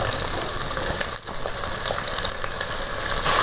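Two chopped onions sautéing in a pan for Kerala-style koottu curry, a dense continuous sizzle with light stirring, close and steady throughout.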